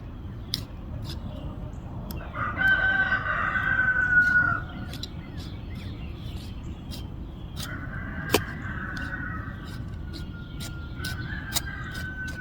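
A rooster crows outdoors in a garden under moringa trees, two moderately distant calls over steady ambient noise and scattered clicks, with a faint second crow following.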